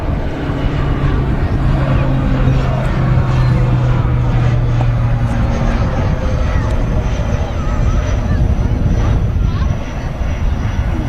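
An Aer Lingus Regional ATR 72 airliner at Manchester Airport gives a loud, steady turboprop engine drone that fills the whole stretch, with a voice talking over it.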